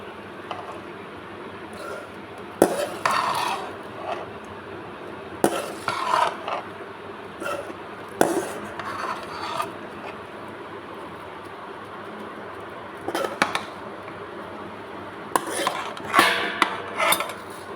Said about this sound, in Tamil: இப்போ வந்து நம்ம இதை நல்லா கிளறி எடுத்துக்கலாம் இப்படி அடியோடு தான் நம்ம விரட்டி விடணும்